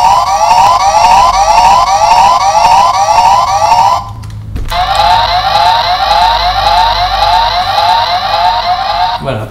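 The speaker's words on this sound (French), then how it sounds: "après on a la sirène" An electronic siren from a Gokaiger Patstriker toy wails continuously with rapid rising and falling tones, briefly cutting out midway before resuming; loud and close, with no talking.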